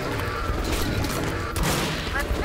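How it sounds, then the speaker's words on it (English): A shotgun fires amid loud, continuous gunfire and mechanical clatter in the game Metro Last Light Redux, with a sharper blast standing out partway through. "Let's use the shotgun on him."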